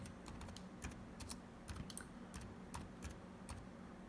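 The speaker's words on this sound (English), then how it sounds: "we'll just start typing" Keys clatter in quick irregular bursts as a folder name is typed on a computer keyboard, close and fairly quiet, with no voices.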